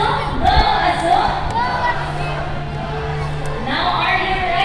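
A crowd of girls in the audience at a bird show at Cebu Ocean Park cheers and shouts together in loud, sustained bursts, with a host's voice over the noise.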